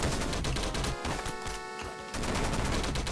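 Rapid automatic gunfire from a machine gun weapon in Downwell, a retro-style PC platformer, rattles densely and loudly through nearly the whole stretch, easing slightly for a moment in the middle before resuming.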